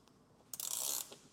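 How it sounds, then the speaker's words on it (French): A screw on a soft-close automatic door handle bracket is loosened, giving a brief faint click followed by a short, louder ratcheting burst up close. No one talks. "je viens desserrer mes vis"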